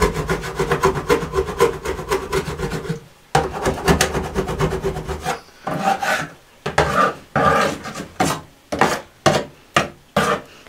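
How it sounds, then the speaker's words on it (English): Scraping dried rabbit droppings off a wooden rabbit shed, a loud rasping scrape repeated in long continuous runs at first, then breaking into short separate strokes with brief pauses between them. "So now I just need to scrape off any like dry little bits of poo like this, because I'm going to paint it."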